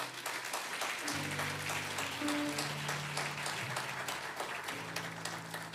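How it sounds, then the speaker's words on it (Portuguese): Church congregation applauding during a service at Cathedral International, steady clapping over a held low organ or keyboard tone, moderately loud and continuous. "você podia dar um aplauso ao Senhor Jesus"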